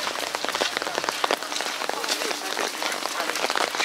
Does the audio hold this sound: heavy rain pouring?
yes